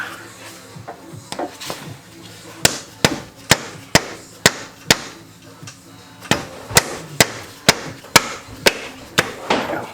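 Hammer blows striking parts on a Focus RS time-attack car under assembly, with over a dozen hard, sharp metallic impacts in a fairly regular rhythm, loud and close.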